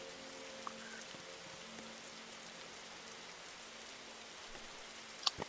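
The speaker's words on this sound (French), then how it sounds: "Non, il pleut!" Steady, quiet video game rain in a forest at night patters in an even hiss with a faint hum underneath, broken by a couple of brief ticks and a small clatter near the end.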